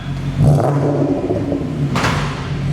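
Honda S2000 engine revving in a garage, a steady loud rumble with a brief rise in revs near the end.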